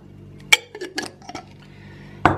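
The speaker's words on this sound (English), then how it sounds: "So I'm first going to mix the coffee with the chocolate, like powder, Nesquik" A spoon clinks against a glass or cup while stirring coffee with Nesquik chocolate powder, giving a few sharp, close taps spread over a couple of seconds, with a louder scrape near the end.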